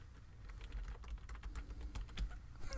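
Steady run of keystrokes on a computer keyboard while an email message is written, the clicks fairly close and even in rhythm with small pauses, no voices.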